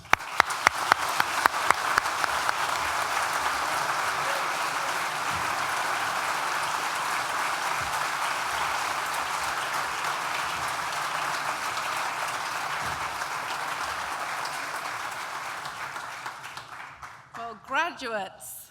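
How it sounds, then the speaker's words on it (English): Sustained applause from a large graduation ceremony audience fills the hall steadily for most of the stretch, beginning with a few separate claps and fading out near the end as a voice comes in. "I hope then that you'll join me in a warm round of applause for all those I've just mentioned"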